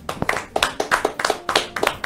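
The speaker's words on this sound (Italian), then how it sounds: "Facciamo un applauso." Applause from a small group in an Italian interview setting: a handful of distinct, sharp hand claps in an irregular rhythm, close and fairly loud, with no talking.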